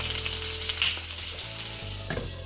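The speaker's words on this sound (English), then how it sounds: "I'm going in with my doing my stir fry beets, and it's just a tablespoonful of olive oil in the pot." Beets stir-frying in olive oil in a pot make a steady, close sizzle with a few stirring scrapes and soft knocks, and no one talks.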